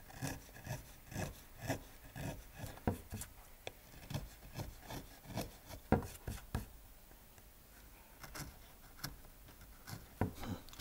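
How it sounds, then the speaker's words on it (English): A chisel carves along the grain of a woodblock for printmaking, giving close, rhythmic scraping strokes that repeat steadily one after another. "This group should be no problem because this is with the grain. The chisel wants to run this way smoothly."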